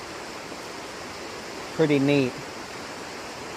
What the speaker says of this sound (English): it's really amazing the amount of power that the water has